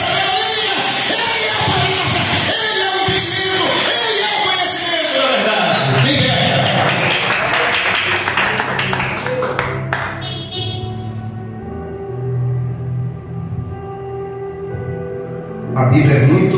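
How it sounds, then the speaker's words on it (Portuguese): Baptist church congregation yelling and clapping in a loud, dense burst that swells for several seconds, then fades into scattered applause and the preacher's voice, with a brief rise of cheering near the end. "Dá um salve de palmas."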